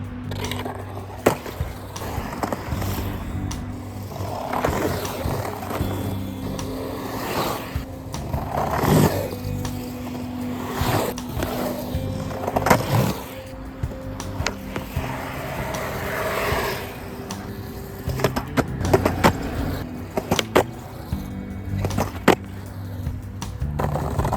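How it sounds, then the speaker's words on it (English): Skateboard wheels roll fast and heavily over a rough brick surface, a constant close grinding rumble with frequent clacks and bumps across the seams, loud and steady throughout with no talk. "I'm looking forward to skating on these wheels"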